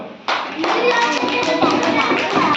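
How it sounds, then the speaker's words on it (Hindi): A class of schoolchildren bursts into clapping for a classmate, a sudden start that settles into brisk, uneven hand claps with young voices mixed in. "बहुत अच्छा लिखी है बच्ची, ताली बजाओ"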